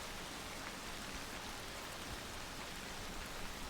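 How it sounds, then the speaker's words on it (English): Simulated rain in the X-Plane 11 flight simulator falls on an Airbus A320 at Salt Lake City, a faint, even hiss of rainfall that holds constant throughout, with no voices. "We are in Salt Lake City with nasty rainy weather."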